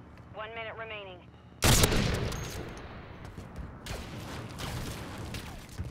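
Video game gunfire from a hip-fired gun: a sudden loud burst of shots with a booming crack, followed by scattered repeated shots and clatter, after a brief voice at the start.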